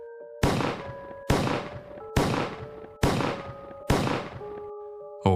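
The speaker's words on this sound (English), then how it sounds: "Over and over, multiple shots in rapid succession." Five heavy gunshots ring out at a steady, rapid pace, each a sharp loud blast with a long echoing decay, followed by a sixth beginning at the very end.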